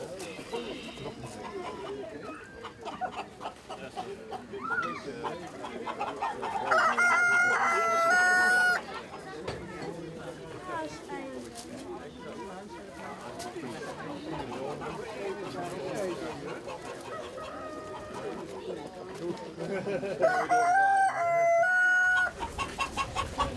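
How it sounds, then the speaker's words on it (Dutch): At a poultry show a rooster crows loudly twice, with long drawn-out calls well apart, while hens cluck and people chat steadily in the background. "Dan komt de haan Draghi."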